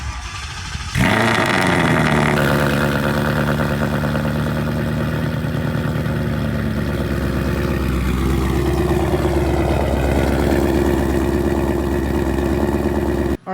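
A 2018 Ford Mustang GT with a Corsa active exhaust cold-starts with a sharp crank and loud bark, then settles into a heavy, droning high idle that eases slightly lower as it warms, running steadily throughout.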